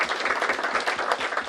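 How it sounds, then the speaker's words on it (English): An audience at a public minimum wage forum applauds briefly, a close, even patter of many hands clapping. "Let's give a round of applause for our LPM partners"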